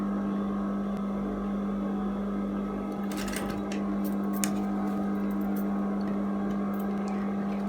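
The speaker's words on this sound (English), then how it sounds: "Do a quick reverse stitch." Sewing machine running a steady stitch while backstitching at the point of a dart on dress fabric, a constant motor hum with brief clicks near the middle, close and continuous with no talking.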